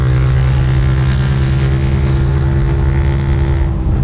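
A camper van's engine running on a road test after a carburetor replacement, a loud, steady, smooth drone with an even hum throughout and no talking.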